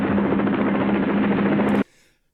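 Steady helicopter rotor and engine drone from a movie action scene, loud and continuous for under two seconds before cutting off abruptly, with no talking.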